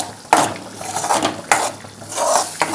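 A spoon stirs and scrapes a thick date and pistachio paste in a pan, with sharp clacks against the metal at intervals between softer, drawn-out scraping strokes, close and fairly loud.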